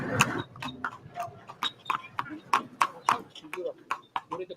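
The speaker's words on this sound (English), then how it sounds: "this is the best way to get around is by horse carriage." Hooves of a carriage horse clip-clop at a steady, lively pace along the old heritage streets of Saint-Louis, Senegal, close and clear, with people talking over the repeated sharp strikes.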